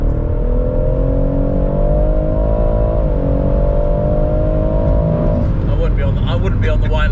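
A Stage 2+ tuned BMW M140i accelerating hard, engine note climbing steadily from inside the car with a brief dip as it shifts, then a rougher crackling burst at the end, loud and continuous.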